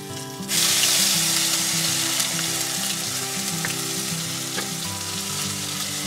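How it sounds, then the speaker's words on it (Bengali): Tomato puree mixed with chili and turmeric powder hitting hot oil bursts into a loud, close, steady sizzle that starts abruptly and keeps crackling evenly, with faint stirring clicks and no talking. "এই গরম তেলের মধ্যে ছেড়ে দিচ্ছি।"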